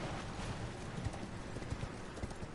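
Horse hooves clip-clop steadily on the ground in Elden Ring, a quick, uneven run of muffled footfalls under constant game noise.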